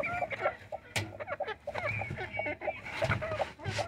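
Busy chorus of quail chicks chirping and cheeping close by, overlapping peeps and clucks repeating steadily with a brief louder call midway.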